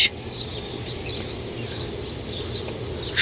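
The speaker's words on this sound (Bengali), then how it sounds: "পাখির কিচিরমিচির আওয়াজে তো একদম মুখরিত চারপাশ" Early-morning birds chirping outdoors, a faint, continuous high twittering from several birds scattered in the distance over a steady background hiss.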